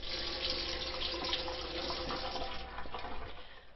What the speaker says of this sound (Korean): 수도꼭지를 열면 이렇게 물이 콸콸 나오는데요